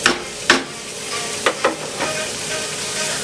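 Spring onion and a spoonful of tomato paste are stirred in a frying pan with bay leaves over a steady sizzle, with a few sharp spoon scrapes near the start and in the middle.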